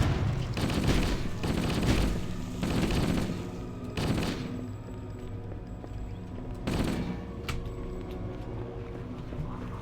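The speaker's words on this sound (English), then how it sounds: "I need an MG42." Automatic machine-gun fire in a video game, the MG42, comes as several loud rattling bursts over the first few seconds with further shorter bursts later, against a steady background din.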